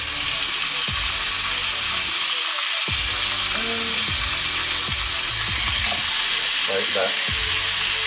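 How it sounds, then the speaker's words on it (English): Pork chops, lightly oiled, hiss and sizzle steadily in a hot pan, a loud continuous fry with occasional pops and scraping, while a person briefly speaks over it. "I'm going to put that in a hot pan, like that, with the skin to the outer edge"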